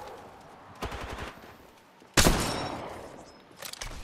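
Bursts of automatic gunfire crackle in the video game Apex Legends, with a few quick rattling volleys spread across four seconds, the loudest burst sharp and close, the others fainter.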